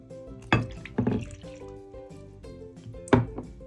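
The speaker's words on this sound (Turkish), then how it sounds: "Şimdi kabıma boşalttığım nişastamın üstüne suyumu ilave ediyorum." Water being poured from a glass onto cornstarch in a container for an oobleck experiment, soft splashing and pouring with a few louder splashes, close and fairly quiet.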